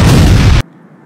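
A loud bomb explosion from an airstrike in the superhero video game Heroes Online World, a single booming blast that cuts off abruptly.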